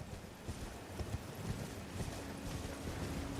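A horse's hooves clip-clop in Elden Ring, a steady rhythmic trot of soft thuds under a constant wash of background noise.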